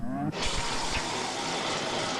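A cold shower bursts on and runs steadily, a loud close hiss of spraying water that stays constant for the rest of the moment.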